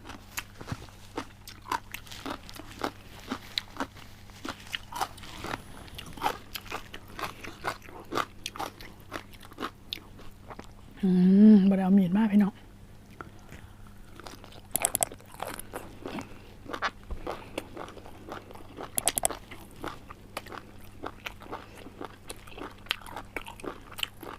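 Someone eats Lao-style papaya salad with crunchy steamed squid, giving close, repeated crisp bites and chewing crunches throughout, with a brief louder burst midway and no talk.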